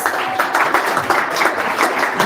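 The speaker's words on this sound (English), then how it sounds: "Big round of applause for Alex." Loud, dense applause from a seated audience at a university cloud challenge launch event in London, steady and close with no break.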